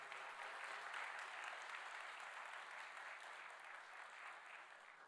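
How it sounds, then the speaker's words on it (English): A graduation ceremony crowd for the Class of 2023 in Waterloo applauds the graduates' parents, a dense, steady wash of clapping that holds for several seconds and eases slightly toward the end, with no voices over it. "give a huge round of applause to your parents that got you here"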